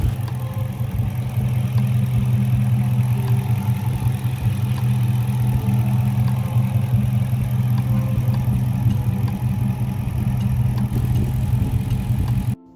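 A 5.7 HEMI V8 with newly fitted Taylor plug wires runs at a steady idle, a loud, close, lumpy low rumble that holds evenly throughout before cutting off abruptly at the end.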